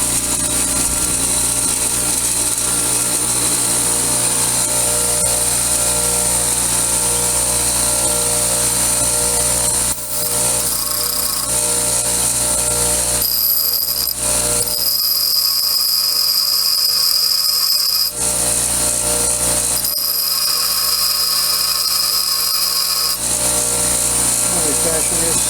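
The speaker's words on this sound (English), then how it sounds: "Now we go to the grinder." Grinder shaping metal into a receptacle for a Phillips bit for a pneumatic nut buster tool, a loud continuous high whine with shifting pitch as the workpiece is pressed and eased off.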